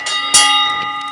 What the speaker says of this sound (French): Elle est juste merveilleuse cette cloche, Aurélie.